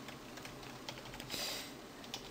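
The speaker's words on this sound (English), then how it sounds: "you go to your console and type in op and then their name" A command typed on a computer keyboard at a console while setting up a Minecraft server: a short run of light, uneven key clicks, close and fairly quiet, with no voice.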